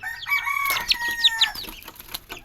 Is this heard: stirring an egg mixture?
no